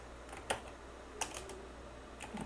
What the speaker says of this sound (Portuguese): vou digitar return.